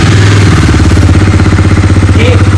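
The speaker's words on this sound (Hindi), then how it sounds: "ये अभी नॉर्मल इसकी आवाज है" A Bajaj Dominar D250 motorcycle engine idling close by with no throttle applied, a steady deep, lumpy exhaust thrum pulsing in an even rhythm, loud and alone.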